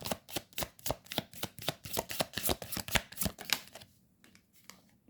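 A deck of tarot cards is shuffled up close in a quick, even run of crisp riffling snaps, about a dozen strokes, then it trails off into a few softer shuffles and quiet.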